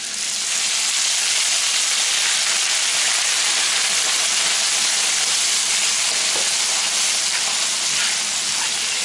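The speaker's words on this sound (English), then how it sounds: "Basically just going to continue to cook that till that white wine deglazes the bottom of the pan and is absorbed by everything else." White wine deglazing in a hot pan while cooking tartiflette, a steady loud sizzle and hiss that stays even throughout, close up with no talking.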